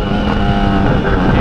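A Honda CB1000 motorcycle engine roars loud and close in one continuous, steady drone at high revs, with no clear pops standing out and no one talking.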